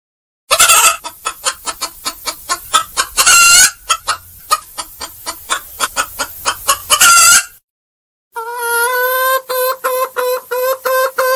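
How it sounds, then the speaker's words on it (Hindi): A farm rooster being fed grain clucks loudly and close by in long rhythmic runs of sharp, evenly spaced clucks, pauses briefly, then gives a drawn-out, strongly tonal crowing call. "बस अपने मुर्गे को कुछ दाना खिला रहा हूँ"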